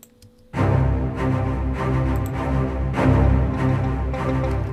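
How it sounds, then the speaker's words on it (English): Low strings from the Iceni sample library, a dense, sustained bowed low-register texture that swells in after a brief silence and holds with gentle pulses of loudness throughout. "Strings low from Iceni."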